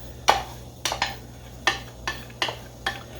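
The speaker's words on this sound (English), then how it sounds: "What I'm doing is just getting the rest of the grains out of here that's stuck to the dish." A metal spoon scrapes and taps leftover cooked grains from a dish, making six sharp, evenly spaced clinks and scrapes close by, with no talking.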